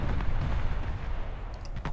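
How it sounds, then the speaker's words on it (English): A torpedo strikes an enemy battleship in a naval warship game, producing a deep, muffled booming explosion that rumbles loudly through the short moment with a small crack near the end. "There gets another torpedo hit."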